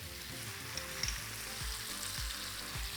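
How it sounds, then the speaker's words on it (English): Crème fraîche going into reduced wine in a pan, a continuous close sizzle with faint low thumps and clinks spaced through it, no voices. "My wine has reduced down by half, so I'm going to add my creme fraiche."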